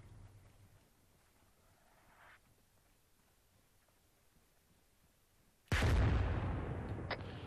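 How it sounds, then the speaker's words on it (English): Mortar round exploding close by in the military shooter ArmA 3: long quiet ambience, then a sudden loud blast that rolls off into a decaying rumble with a brief secondary crack. "This mortar round's getting very close."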